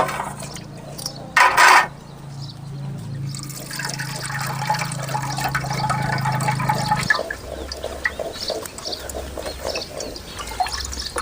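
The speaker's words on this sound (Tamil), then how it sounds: "தண்ணி சுத்தமாக வடிச்சாச்சு." Soaking water poured and drained off rice while making milk payasam, a steady trickling splash of liquid running for several seconds, with a brief louder burst near the start, heard alone without talk.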